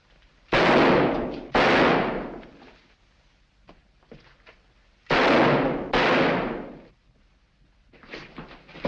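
Gunfire in a 1943 Sherlock Holmes mystery film, with four loud, sharp blasts arriving in two pairs, each ringing out and decaying in the room before fainter clatter and movement follow.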